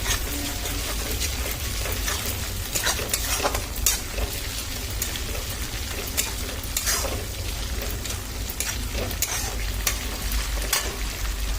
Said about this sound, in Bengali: আদা বাটা দিচ্ছি ভালো করে ভেজে নেব